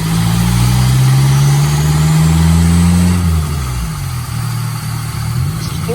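A Mercury Capri RS Turbo on a dyno in a 4th-gear pull with the exhaust cutout open and raised boost roars loud and close, its engine note climbing steadily and then dropping off as the revs fall and recover.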